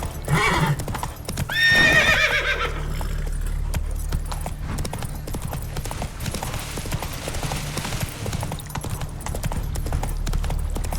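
Roach, Geralt's horse in Witcher 3, opens with a loud neigh and snort, then trots on with a steady, close clip-clop of hooves that continues evenly to the end, without any speech.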